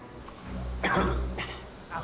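A priest character in a Filipino film scene gives a rough, throaty cough, followed by two more fainter coughs, close up over a low background hum.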